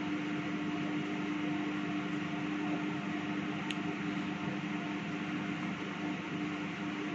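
A microwave oven running, a steady mechanical hum with a constant droning tone, continuous and unchanging throughout, with no voices.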